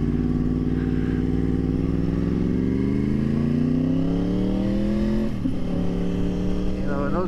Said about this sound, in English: I think this car wants something